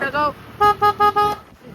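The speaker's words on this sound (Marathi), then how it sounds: "गाडी कौशीनं हॉर्न कसं मोठा आहे" A car horn honks four times in quick, loud bursts, preceded by a short tone, with faint talk and traffic noise around it.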